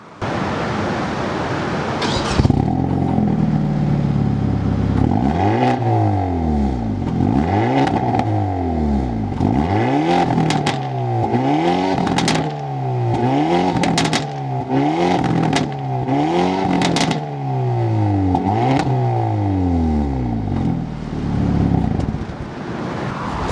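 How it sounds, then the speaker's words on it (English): A Hyundai Elantra N with a 4-cylinder engine and real exhaust revs repeatedly, its loud, close exhaust note rising and falling in a steady series of throttle blips, each pull ending with sharp crackles and pops. "This thing sounds awesome, and those are real exhaust sounds."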